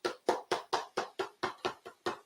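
Ingredients being chopped with a knife on a cutting board in a home kitchen: about ten evenly spaced, dull thudding knocks in a steady rhythm, close but moderately quiet, with no talking.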